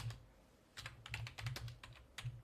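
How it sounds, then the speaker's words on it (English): Computer keyboard typing during a live forex trading stream, a quick irregular burst of clicky keystrokes, fairly close and clear, with no talking over it. "type that in the chat"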